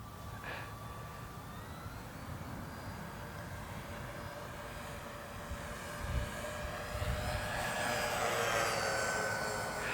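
An E-flite EC-1500 Twin RC cargo plane flies overhead, its twin electric motors whining and shifting pitch as it passes, faint at first and growing louder toward the end.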